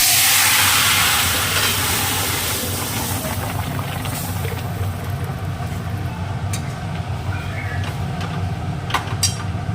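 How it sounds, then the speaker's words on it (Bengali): A pressure cooker with masoor dal and papaya inside hisses steam in a loud, continuous rushing jet that eases slightly after the first seconds, with faint clinks and knocks in the background. "প্রেশার কুকারে বসিয়ে দিয়েছি ডাল।"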